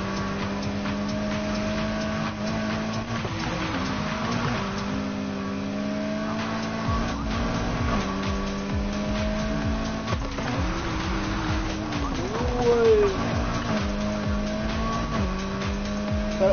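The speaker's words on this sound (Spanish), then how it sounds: "le metí el nitro ahí para pa doblar esta curva pesada" A car in a PS4 racing video game drones with a steady, high-revving engine and nitro boost, shifting gears in repeated rising sweeps, with a brief tire squeal near the end, continuous and loud without talk.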